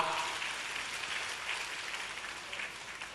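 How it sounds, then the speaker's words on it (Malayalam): Audience at a Palakkad farmers' day cultural stage event applauding the farmers, a steady dense wash of clapping held at an even level throughout, with no voices over it. "എല്ലാവരും ആ കുട്ടിക്കർഷകൻ മുതൽ എൺപത്തിയേഴ് വയസ്സ് വരെയുള്ള കർഷകരെ ഒന്നുകൂടി കൈയടിച്ച് അഭിനന്ദിക്കുക"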